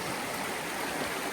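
River water rushing over rocks at a trail crossing on the Appalachian Trail, a steady, dense broadband wash that stays loud and even throughout with no voices over it.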